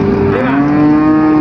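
A single loud, close cow moo carries steadily for the whole clip at the Pon livestock market in Jaken, Pati, where young beef cattle are penned.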